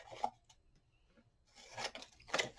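Scissors cutting off the corner of paper for a mini album, several close, crisp snips in two bursts separated by a quiet pause.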